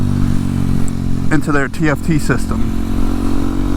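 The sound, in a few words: KTM 790 Duke motorcycle riding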